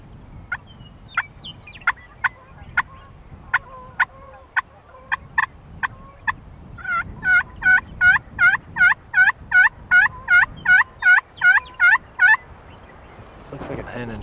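Wild turkey toms gobble in a Montana river bottom, first a string of sharp separate calls, then a fast run of about fifteen loud rattling gobbles, with no talking.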